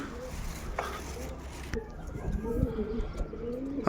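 A pigeon coos softly a few times close by, with faint rustling and light movement noises around it.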